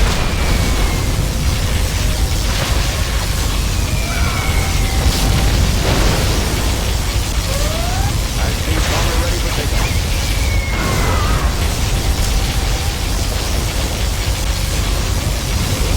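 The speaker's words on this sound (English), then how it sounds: "Particle cannon activated." Particle cannon blast from C&C Generals Zero Hour, a loud, sustained roaring rumble of broadband noise lasting throughout, with faint in-game voices and effects layered over it.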